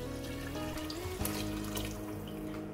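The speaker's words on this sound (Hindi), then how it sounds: "इसके बाद मैंने इसमें शामिल करना है तकरीबन 1 लीटर पानी।" About a litre of water pours steadily into a pot of spiced meat for haleem, a continuous gushing splash that shifts in pitch as the pot fills, close and alone with no voices.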